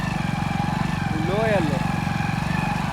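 A motorcycle engine hums steadily while riding, a continuous mid-pitched drone close by with a short rising and falling whine in the middle.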